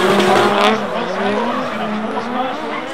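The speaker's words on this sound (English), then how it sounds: "The action continued straight off the line with Gaz Grove and Joel Hedges going bumper to bumper" Drift cars at a D1NZ Pro-AM grand final at Mt Smart run bumper to bumper, engines roaring and tires squealing loudly and continuously, with a commentator talking over the din.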